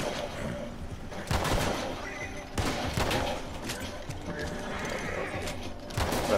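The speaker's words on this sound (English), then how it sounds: "I'm gonna get my horse out of here." A horse in Red Dead Redemption 2 Online, during a bank robbery, neighs loudly while hooves clop. Other busy game sounds fill the background, and sharp bursts that may be distant gunfire punctuate the mix.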